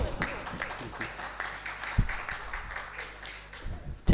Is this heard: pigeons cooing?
no